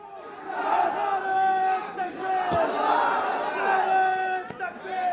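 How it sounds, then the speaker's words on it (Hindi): A large crowd of students chants slogans in unison, loud and close, with rising and falling shouted voices repeating the chant several times over crowd noise. "छात्रों की भीड़ ने स्लोगन को आगे बढ़ाते हुए अल्लाहू अकबर के नारे लगा दिए"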